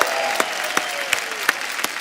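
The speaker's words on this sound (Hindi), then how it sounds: "एक बार जोरदार तालियां" A studio audience at a Hindi TV comedy talk show applauds in a brief burst: sharp, evenly spaced claps ring out over a softer crowd wash, fairly close.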